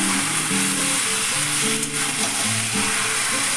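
Chicken frying in a pan with a loud, constant sizzle throughout, while a utensil stirs the pieces now and then up close; nobody speaks.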